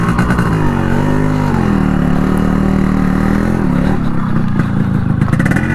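A restored stock Yamaha RX135 motorcycle runs loud and close, its engine rumbling steadily with a brief dip in pitch and slight revving toward the end, no voices over it.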